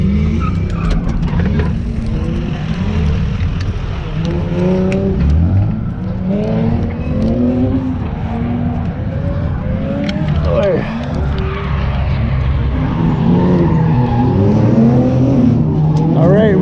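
A Nissan 240 drifting at a track on Goodyear tires, loud engine revving with long wailing tire squeals and skids rising and falling throughout, close and continuous, with a voice speaking over it.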